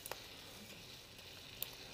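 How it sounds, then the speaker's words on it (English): Quiet, steady sizzle of Liège waffle dough cooking on a hot waffle iron, with a couple of faint ticks and pops above the hiss. "You're going to hear that sizzle."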